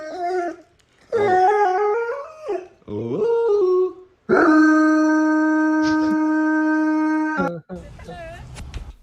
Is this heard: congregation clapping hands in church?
no